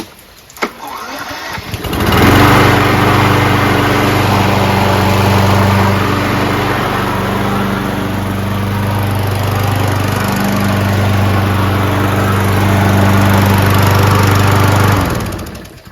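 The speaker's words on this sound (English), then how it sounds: "a top-of-the-line Craftsman front self-propelled lawnmower" A Craftsman front-wheel self-propelled lawn mower engine starts and runs at a steady drone for several seconds, loud and close, then cuts off.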